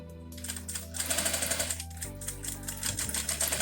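A sewing machine backstitches while sewing a honeycomb drawer organizer, running with a fast mechanical clatter and a steady motor whine that shifts pitch partway through as the stitching reverses, close and clear with no talk.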